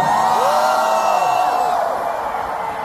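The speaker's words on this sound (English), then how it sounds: "Even here, they're cheering the most for you." Large concert crowd at a show in Seoul, South Korea, cheering and whooping loudly and continuously, a dense wash of yells and screams with rising and falling voices.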